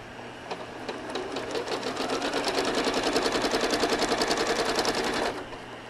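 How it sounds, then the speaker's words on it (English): A home sewing machine stitches a quilt along a ruler, running in a fast, even mechanical chatter for about five seconds before stopping. Loud and close, with no talking. "I'm going to stitch in the ditch right across this ditch here so that my needle is in position for me to stitch coming backwards"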